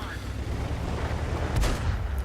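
Artillery fire from an FV207 in the World of Tanks video game booms as one sharp blast over a dense rumble of battle noise, with commentary talk running underneath.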